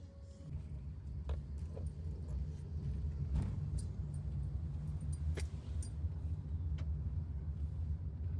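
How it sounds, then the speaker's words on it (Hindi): Low road traffic rumble from inside a car in busy holiday traffic in India, a steady engine drone with occasional faint clicks and rattles, fairly quiet throughout. "ये देखिए ट्रैफिक।"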